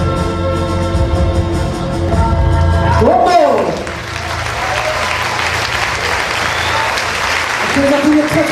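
After tonal sound and a voice, an audience at a martial arts demonstration bursts into loud, sustained applause that carries on steadily, with a voice briefly resurfacing near the end.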